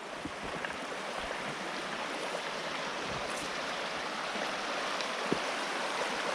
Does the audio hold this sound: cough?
no